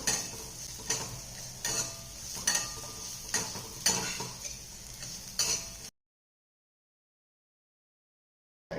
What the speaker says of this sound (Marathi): या शेवया पटकन भाजतात, त्यामुळे पटपट हलवायचं आहे